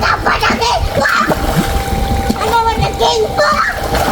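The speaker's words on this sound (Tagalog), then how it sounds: "Ayan, papalublob natin." Niwra Raptor motorcycle topbox being pushed down into water, with repeated close splashes and sloshing under almost continuous talking, including a voice.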